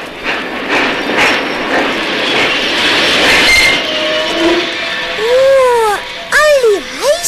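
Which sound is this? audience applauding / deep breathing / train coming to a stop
train coming to a stop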